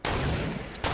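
A short, loud burst of rapid video-game gunfire from a sub-machine gun rattles for most of a second, breaks off briefly, then kicks back in at the very end.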